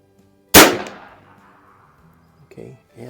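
One sharp, loud report from a Shin Sung Career Ultra lever-action .357 PCP air rifle at a range, with a ringing decay, then soft mechanical clicks and handling noises.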